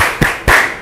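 Two quick, sharp hand claps from a classroom focus chant, loud and close, with a short gap between them.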